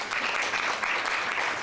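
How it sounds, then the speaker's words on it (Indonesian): Audience applause at an Indonesian panel discussion on just energy transition and green jobs, a dense steady wash of many hands clapping at moderate level throughout, with no talk over it. "tepuk tangan untuk Mas Fajar"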